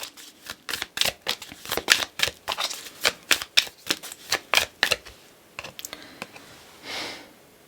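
Oracle cards being shuffled for a tarot reading, a quick, steady run of close, crisp riffling flutters and slaps that thins into a few scattered taps before a soft rustle at the end.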